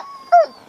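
A sled dog lets out a brief high whimper, a short whining cry close by, with quiet background.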